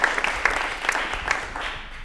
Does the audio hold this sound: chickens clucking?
no